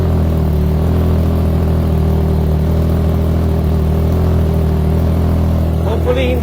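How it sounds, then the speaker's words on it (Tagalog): A Triumph Trident 660 motorcycle idles with its exhaust, a loud, steady, deep low rumble that holds constant throughout, close by and alone. "If you're gonna hear it in person, you actually hear the deep bass rumble from or the deep bass sound from the bike."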